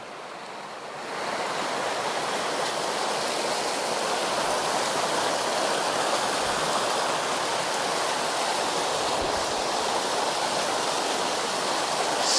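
Water flows down a small stream with pools along a walking trail, a dense, steady rushing that swells after the first second and stays loud and close, with no voices.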